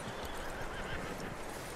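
A horse in Red Dead Redemption 2 gives a short whinny amid soft shuffling hoof sounds, brief and moderately quiet with no speech.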